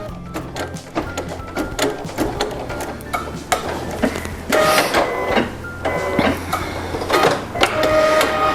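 Computerized embroidery machine stitching the center panel of a 3D collection quilt, fabric held in a hoop, giving a steady mechanical rattle of rapid needle strokes with periodic clicks and shifts in pace, running alone at close range.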